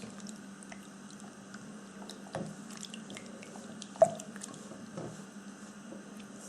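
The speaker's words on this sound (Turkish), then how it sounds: "Önce parmak uçlarıyla sıvı malzemeyi karıştırıyoruz." Fingertips mixing liquid dough ingredients with lemon juice and salt for rose baklava, faint soft wet squishing and dripping with a couple of sharper splashes, close and quiet with no talk.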